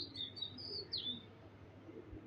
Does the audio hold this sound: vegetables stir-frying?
no